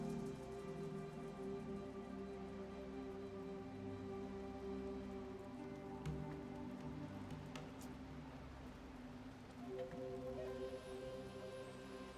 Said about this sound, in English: I fucking love the rain in this game.